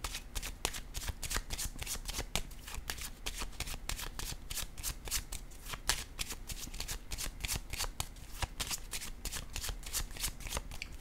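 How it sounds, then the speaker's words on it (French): A deck of tarot cards being shuffled makes a steady, fast run of crisp riffling flicks that carries on throughout, close and alone with no talk. "je vais piger une autre carte ici pour elle"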